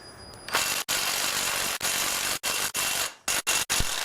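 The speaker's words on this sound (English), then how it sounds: "So I just used the ratchet to get it loose." A ratchet works a tight engine bolt loose during an engine teardown, giving a run of dense mechanical clicking bursts broken by short pauses and sharp stops, close and fairly quiet with no talk.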